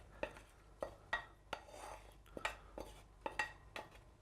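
Onions and garlic being mixed into minced meat in a bowl or pot, a series of soft irregular clinks and scrapes from a spoon, about ten strokes, quiet and close with no talk.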